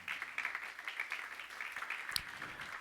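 Congregation at a church service claps for the Lord, a soft spread-out patter of many hands heard from a distance, steady with a sharper clap near the end.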